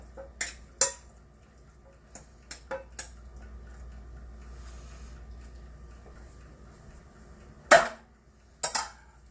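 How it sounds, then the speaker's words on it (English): Beef stroganoff mixture stirred in a crockpot: scattered sharp clinks and scrapes of a utensil against the pot, a few at the start and a louder cluster near the end, separated by quiet stretches, with no talk. "Stir it."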